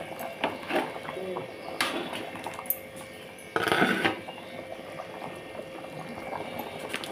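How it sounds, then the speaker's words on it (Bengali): Egg curry gravy bubbling vigorously in a pot, with a close, thick burble of boiling and popping bubbles, a sudden louder surge midway, and occasional clinks of utensils. "দেখতেই পাচ্ছ ডিমের ঝোলটা আমার পুরো টকবক করে ফুটছে"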